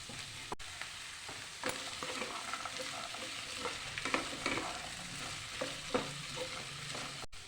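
Mixed vegetables stir-fry in a pan, a soft, fairly quiet sizzle under irregular scraping and clinking stirring strokes, with no speech.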